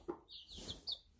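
Pet chickens cluck and chirp softly in a few brief, faint calls nearby, with no talking.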